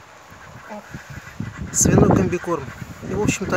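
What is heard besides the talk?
ducks quacking at feeding time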